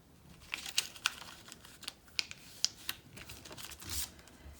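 Paper being folded in half for an origami dress, giving soft close crinkles, taps and creases in a quick irregular series, quiet and with no voices.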